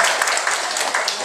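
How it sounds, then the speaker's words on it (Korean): A church congregation applauds during a Sunday service, a brief, dense burst of many people clapping together at close range. "우리 모두에게 박수."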